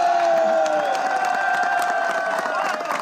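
A crowd at a football club title celebration cheers, shouts and applauds in a steady, loud roar, with a few voices rising and falling across the wash of sound.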